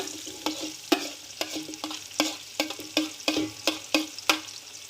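Onions fry in hot oil in a pot for chicken biryani, with a steady sizzle punctuated by regular, fairly loud scraping strokes of stirring, about two per second, up close.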